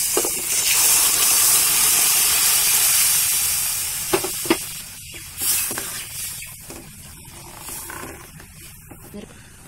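Roasted dried-coconut masala hits hot dal vang (lentils with brinjal) with a loud, sustained sizzling hiss that gradually fades, followed by a few light knocks and stirring sounds.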